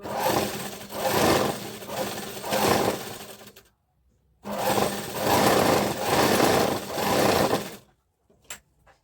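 An electric motor-driven sewing machine stitches a blouse in two loud, sustained runs of rapid whirring, separated by a brief pause, with a short final burst near the end.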